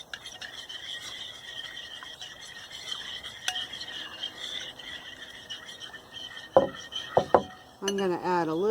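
Stirring a thick mixture with baking soda in a bowl: steady scraping and clinking of utensils on the container runs throughout, with a few sharper knocks near the end and faint voices briefly in the background.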